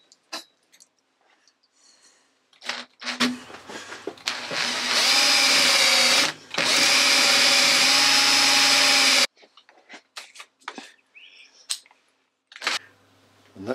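A drill bores holes for a die holder in a workshop, with two loud sustained whirring bursts separated by a brief pause and quieter clicks and handling noises before and after.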